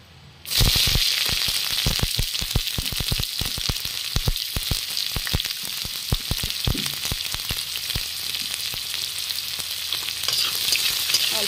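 Chopped onions hit hot oil in a pan and crackle into a steady, close sizzle, with quick popping spatters running through the whole stretch.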